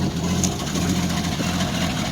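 An old Jeep engine running rough just after a cold start, a steady loud low idle rumble with uneven pulsing throughout and no talk over it.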